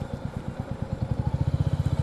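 A Royal Enfield Meteor 350 motorcycle engine while riding, a close, steady low thumping pulse that tightens into a quicker, more even beat toward the end, with no talking over it.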